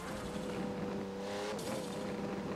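A very low-slung Pagani hypercar driving on the Maple Valley track in a video game, its engine droning steadily and loudly with a shifting pitch and a faint tire scrub. No one speaks.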